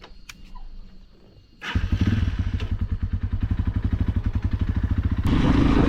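A Thor Blitz XP rider's motorcycle starts off on a track with a thump, then its engine drones close and loud in a steady, rapidly pulsing rhythm that rises as it pulls away, with no talking.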